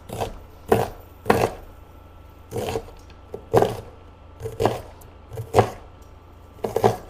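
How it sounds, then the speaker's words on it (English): Knife dicing an onion on a cutting board, about a dozen sharp, crisp chops falling in uneven bursts, close and loud, with no voices. "you just diced an onion"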